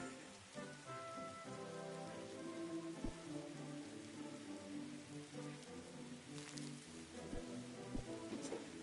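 Rain falling in the Roblox game Grow a Garden, a quiet steady patter of game rainfall with soft thuds, under faint background music tones.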